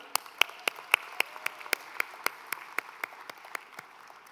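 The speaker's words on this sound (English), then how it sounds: "Let's give a round of applause to Espiat for the great job that he's done." Audience applause at a CHCI swearing-in ceremony and welcome reception: a steady run of crisp, distinct claps, fairly close and evenly paced, with no talk over them.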